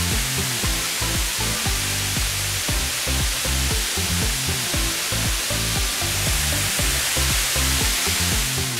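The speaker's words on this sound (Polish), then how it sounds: "Dotarłam do przepięknego wodospadu, który nazywa się Paualho." Paualho waterfall in Brazil, about 50 metres high, tumbling as a steady, loud broadband roar of crashing water that fills the whole clip without pause.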